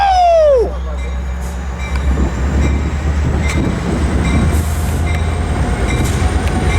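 Metrolink commuter train pulling out of Fullerton, a loud low rumble with wheel squeal at the start and steady rolling rail noise throughout.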